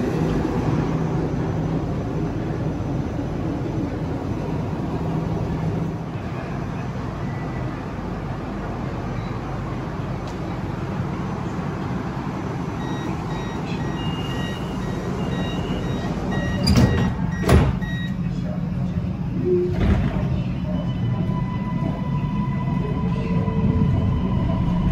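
A Kajang Line MRT train in Malaysia gives a moderate, steady rolling hum, with a few brief sharp knocks and faint tonal beeps partway through.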